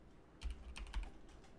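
Computer keyboard typing in a quiet room, a short burst of soft clicking keystrokes at close range with no voice over them.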